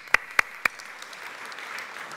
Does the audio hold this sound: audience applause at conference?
yes